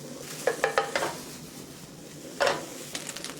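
Bacon frying in a pan without oil or butter sizzles softly, with a few quick scraping clatters of stirring near the start and again later.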